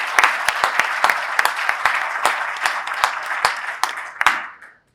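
A civic event audience gives a round of applause at a State of La Grange address, scattered distinct claps over a crowd wash that tapers off and stops.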